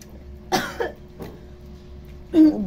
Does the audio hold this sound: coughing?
yes